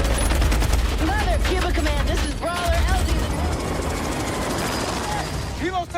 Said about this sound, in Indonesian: muncullah helikopter yang membantu tim dari atas udara.